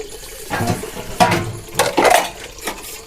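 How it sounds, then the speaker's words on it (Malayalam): Thin water trickling from a household tap pipe with weak flow, arriving in uneven splashing spurts separated by short quieter gaps, heard up close. "ഈ പൈപ്പിൽ വെള്ളം വരുന്നത് കണ്ണീര് പോലെ വെള്ളം വരിക"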